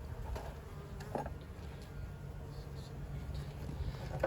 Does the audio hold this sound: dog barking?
no